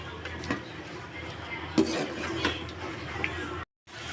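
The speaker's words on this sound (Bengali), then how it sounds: "তো সবজিটাকে খুব ভালোভাবে আমি মশলার সাথে মিক্স করে নেব" Vegetables are stirred with spices in a pan, giving soft scraping and occasional utensil clinks. The sounds are quiet and close, with faint background noise and a brief dropout near the end.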